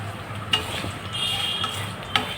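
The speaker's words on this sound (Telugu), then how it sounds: "కరివేపాకు, ఎండుమిర్చి వేసుకుని మనం బాగా ఫ్రై అయితే చేసుకుని మంచి స్మెల్ అయితే వస్తుంది" Curry leaves, dried red chillies and asafoetida frying in hot oil, a steady low sizzle with two faint ticks of a utensil against the pan.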